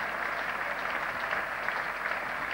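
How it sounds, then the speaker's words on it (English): Crowd at Lord's cricket ground applauding a batsman out after a long innings, a steady dense wash of clapping, moderately distant and even throughout. "getting a big hand from another great crowd here at Lord's"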